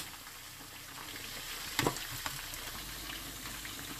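Sriracha chicken wings frying in a covered pan, a quiet steady sizzle with a brief clatter near the middle, soft and close with no voices.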